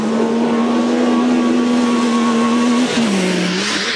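Yamaha YXZ1000R side-by-side driven hard: a loud, steady engine note holding one pitch, then a quick shift-like dip and change near the end, close and alone without talk.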